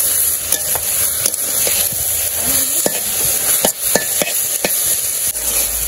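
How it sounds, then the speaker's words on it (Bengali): Leafy greens cooking in a hot pan beside the cook, a loud continuous sizzle and crackle close by, with sharp scraping stirs and taps of a utensil against the pot recurring every second or so. "আর এই যে পাশে আমার শাক রান্না হইতেছে"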